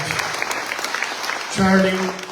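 An audience at a book launch claps for the librarian, a brief burst of applause that gives way to a sustained tone and a murmur of voices near the end.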